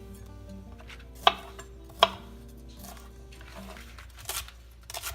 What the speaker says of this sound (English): I'm gonna cut the rest